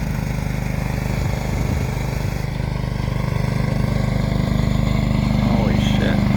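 A John Deere tractor engine runs steadily while clearing snow during a December snowstorm at Rice Lake, Wisconsin, with a loud, continuous low rumble close by throughout.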